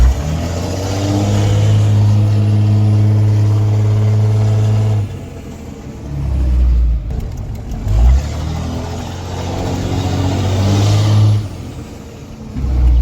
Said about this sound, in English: the intake definitely sounds a lot cooler with this exhaust over the last one